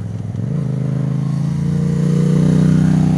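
Yamaha MT-07 motorcycle engine on a ride, a steady loud drone that rises in pitch as it accelerates, with a brief rough pop near the start suggesting a backfire.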